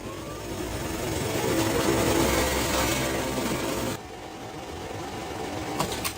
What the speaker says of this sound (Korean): 지금 인쇄 용지가 좀 들어가는 모습이고요.